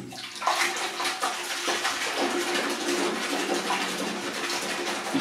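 Water sprays onto a waxed car during a water test, a dense, continuous rushing splash that starts suddenly and stays steady and close, with no talk.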